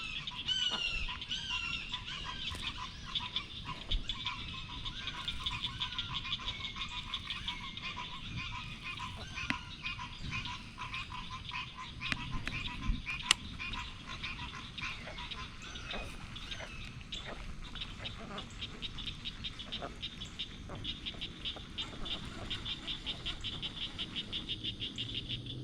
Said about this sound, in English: Those ducks, I bet they're trying to find out what I am.